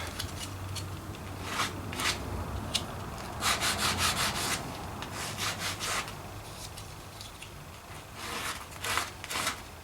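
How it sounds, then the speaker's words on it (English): Sandpaper rubbing along the edge of a guitar pickup plate, a close, dry scratchy rasp in short uneven strokes with brief pauses, alone without talk. "I'm just going to sand that around the edge a little bit, so so it doesn't feel sharp."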